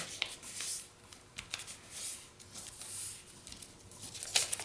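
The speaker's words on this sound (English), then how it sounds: "And fold there, and you're going to fold there." Paper being folded and creased by hand to make holiday ornaments, soft crinkles and brisk swipes in short bursts, close and quiet.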